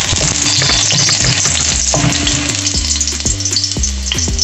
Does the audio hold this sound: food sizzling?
yes